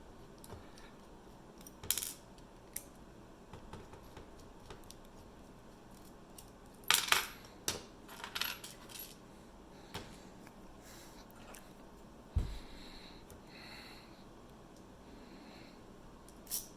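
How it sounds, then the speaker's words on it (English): Small metallic clicks and clinks, close and quiet, come from screws being taken out of the back of a Mul-T-Lock MT5+ lock. They fall in irregular bursts separated by pauses. "I'll take the screws off the back."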